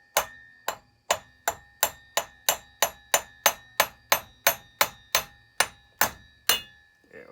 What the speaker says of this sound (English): I end up tapping with a hammer.